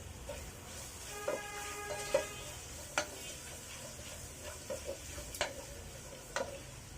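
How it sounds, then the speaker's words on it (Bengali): Two cups of chopped onions are stirred and fried in a pan, making a quiet, continuous sizzle with scattered taps and scrapes from the spoon against the pan. "এগুলোকে কিছুক্ষণ নেড়ে নিব যতক্ষণ পর্যন্ত না এটা নরম হয়ে আসে"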